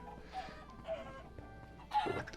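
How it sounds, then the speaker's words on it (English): Chickens cluck in a video game chicken farm in Minecraft (PS4 Bedrock edition), with soft, close clucks arriving in a few separate bursts and a louder flurry near the end, with faint game background sound underneath. "I added some more chickens in here."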